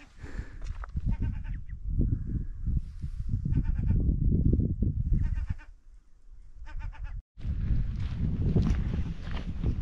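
Sheep bleat in short repeated calls, moderately distant, over wind and outdoor noise on a fenced island in Norway.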